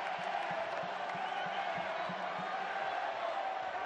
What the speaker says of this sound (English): he's going to hear it now from this Coyote heavy crowd